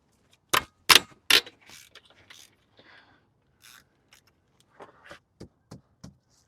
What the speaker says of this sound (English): So right now we are loosening the alternator